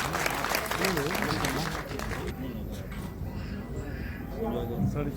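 A crowd at a book launch event claps briefly at first, the applause thinning out while a voice speaks over a loudspeaker in a large hall.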